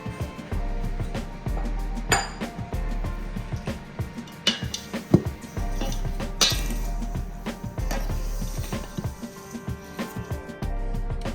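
Bread, croissant pieces and sugar being stirred together in a big mixing bowl for bread pudding, with a steady soft churning and scattered light clinks of the utensil against the bowl, close and moderately loud.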